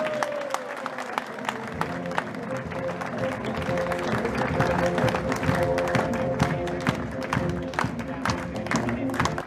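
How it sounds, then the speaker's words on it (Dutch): A large outdoor crowd applauds Willy van Mosselvelden at the Aalst carnival horse procession, Ros Balatum. The clapping is a continuous dense patter with sharper individual claps on top, and a held musical tone and chatter sit underneath. "Nog een extra applaus voor Willy van Mosselvelden."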